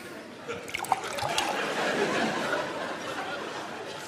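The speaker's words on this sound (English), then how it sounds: "He pours himself a cup of tea." Tea poured into a cup, a continuous soft liquid trickle lasting several seconds, fairly quiet, with faint laughter and audience murmur around it.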